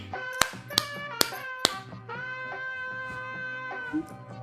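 Four sharp taps on a TV remote, each a crisp knock, sounding over a held musical tone with a light background hum, fairly close and distinct.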